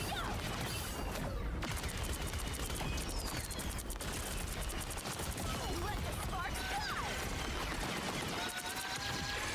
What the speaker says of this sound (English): If hit L1, I can fly? And shoot a lot of fireworks